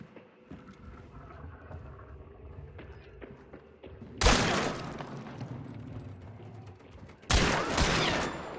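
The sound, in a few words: gunfire in the distance in a video game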